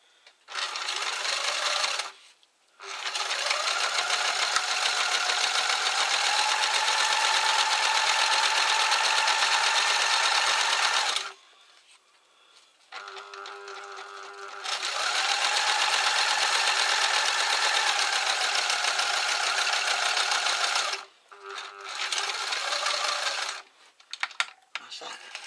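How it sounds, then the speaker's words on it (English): A sewing machine double-stitches a seam on a fabric shelter pouch, running in long steady bursts of rapid whirring stitches, with short pauses between runs while the fabric is turned. "I'm just going to flick it over and sew it so it'll have a double sewing line down it."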